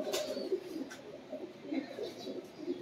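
Old Mer bloodline pigeons cooing softly and repeatedly in a loft, low rolling coos close by with a faint voice in the background.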